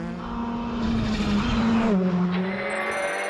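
A Citroen C3 Rally 2 rally car runs a stage at the Rally of the Lakes in Ireland, its engine a loud sustained drone that shifts pitch as it changes gear, heard close and alone.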